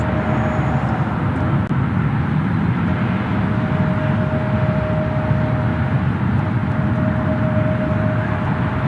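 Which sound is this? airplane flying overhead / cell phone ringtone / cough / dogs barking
airplane flying overhead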